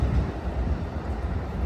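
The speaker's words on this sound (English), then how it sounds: "Alright folks, look at that train. That train is off to the Oakland Jet London Square" An Amtrak San Joaquin passenger train passes through Emeryville station in California, a steady close rumble of rolling wagons with no speech.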